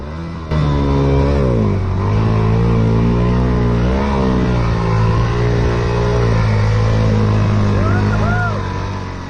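A loud motorcycle engine drones and revs up and down close by while crossing water on the Telegraph Track in Cape York, its pitch rising and falling, with a voice speaking faintly under the noise.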